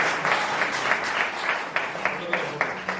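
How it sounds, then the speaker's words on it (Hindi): An audience at a Hindi poetry gathering claps steadily for three seconds, a dense, fairly close wash of applause with a few sharper individual claps standing out. "एक बार ताली बज जाए इस बात के।"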